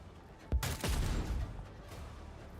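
A single loud gunshot rings out in a Warhammer game as a headshot is attempted, a sharp close blast followed by a rumbling decay and a quiet tail.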